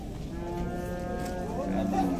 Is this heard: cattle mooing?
yes